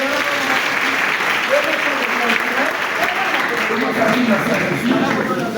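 A church congregation at a healing service claps and cheers loudly and steadily, a dense wash of applause with voices shouting and talking throughout.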